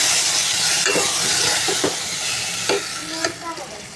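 A spiced onion mixture with turmeric, chilli powder and salt sautés in a pan for egg curry, giving a steady close sizzle broken by several sharp scraping stirs of a spoon.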